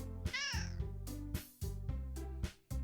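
A pet cat meows close to the microphone, a rising and falling cry followed by a series of short, loud, tonal calls in quick succession.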